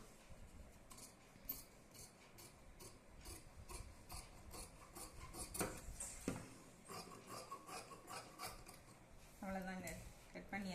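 Scissors cutting through blouse fabric during home tailoring, giving soft rasping snips that repeat in a steady rhythm. The cutting sits close and fairly quiet, with light handling rustle in between.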